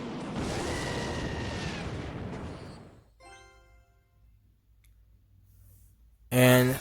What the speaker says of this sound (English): I'm gonna rocket his Ram Rider.